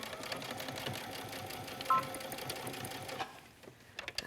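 Sewing machine stitching fabric for a side invisible zipper and waistband, a steady fast whirring needle rhythm close by that stops near the end, followed by a few faint handling clicks.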